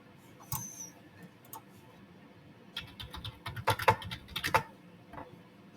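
Keystrokes on a computer keyboard, a few scattered taps early on, then a denser burst of quick typing toward the end, close and fairly quiet with no talk.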